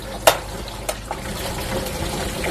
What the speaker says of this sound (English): So put it on to fast rinse, turn it to fast rinse. Again, it's going to spray through here.